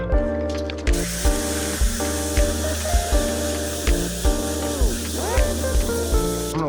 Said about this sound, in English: now we're gonna put it in the water and rinse it out